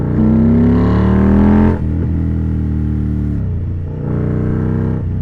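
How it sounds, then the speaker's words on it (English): A loud, throaty Indian Scout Bobber motorcycle with a Freedom Performance 2-1 Combat Shorty exhaust revs hard, drops to a steady rumbling idle, then climbs again briefly, heard up close with no talking. "Especially when the exhaust is this loud."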